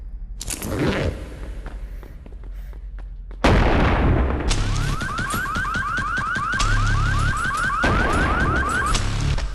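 Gunfire in the video game Animal Company: a brief burst of shots, then a sudden loud stretch of rapid repeated firing with a rising alarm-like tone, close and dense with no talk.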